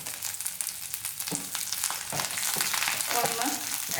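Curry leaves and cut green chillies hit hot oil in a tawa, giving a steady, fairly loud crackling sizzle with a few sharper pops and spatters, close up and without any talk.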